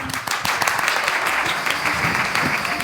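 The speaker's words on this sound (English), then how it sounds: "I want again a warm round of applause for a very smart woman" An audience at a nomad gathering in a Bulgarian village gives a warm round of applause for speaker Stella Guan, steady dense clapping that fills the room for a few seconds.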